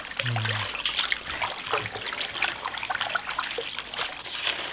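Spring cabbage leaves are washed by hand in water for a quick kimchi-style salad, with trickling, dribbling and splashing from close by over a few seconds.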